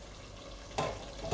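Onions and tomatoes frying in oil for lamb korma, a soft steady sizzle with a brief louder burst of stirring near the end, close and fairly quiet.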